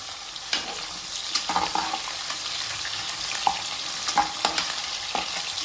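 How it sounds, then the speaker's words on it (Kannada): Onions frying in a pan for a spiced brinjal rice dish, a steady close sizzle broken by scraping, clacking stirs from a spatula at irregular intervals, no voices. "ಈರುಳ್ಳಿ ಹಾಕ್ಕೊತಿದ್ದೀನಿ. ಇದೊಂದು ಸ್ವಲ್ಪ ರೋಸ್ಟ್ ಆಗಲಿ."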